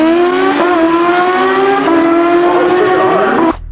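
A 2021 Suzuki Hayabusa motorcycle's engine screams loud and close in a drag-style launch, pitch rising steadily through quick gear changes before cutting off abruptly.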